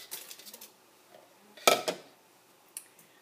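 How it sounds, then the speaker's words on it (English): About two cups of ice cubes are dropped into a blender jar, giving one brief, sharp clattering rattle with a few faint clinks before and after in a quiet kitchen. "So I have about 2 cups of ice that I'm just going to put into my blender."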